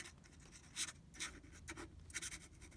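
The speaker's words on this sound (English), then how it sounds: "this is the one that is scratchy because of the nib's problems with it" A fountain pen with a faulty, scratchy nib rasps across paper in quiet, irregular strokes, faint and close with short pauses between marks.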